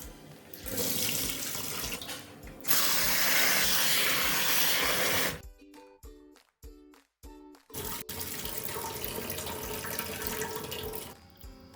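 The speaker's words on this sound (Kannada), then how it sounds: "ಈಗ ಇದನ್ನು ತೊಳ್ಕೊಂಡು ಒಂದೆರಡರಿಂದ ಮೂರು ಸಾರಿ ತೊಳ್ಕೊಂಡು ಬೇಯೋದಿಕ್ಕೆ ಹಾಕೋಣ" Toor dal being washed under a running kitchen tap, a loud steady gush of water that pauses briefly with a few clattering drips and splashes, then flows again.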